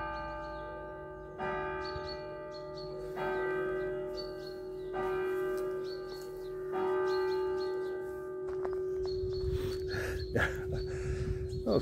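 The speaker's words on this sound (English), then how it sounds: "The old bell's ringing." An old church bell in Tisbury, Wiltshire rings at midday, sounding several spaced strikes that hang and ring on, heard from outdoors, with rustling and handling noise near the end.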